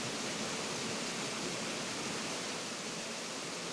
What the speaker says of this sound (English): Beautiful water feature back there.